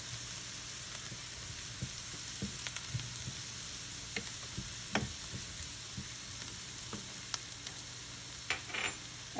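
Turmeric and coriander powder sizzling in a pan while making Kerala mushroom theeyal, a soft steady frying crackle with scattered clicks and stirring scrapes, quiet and close, with no talk.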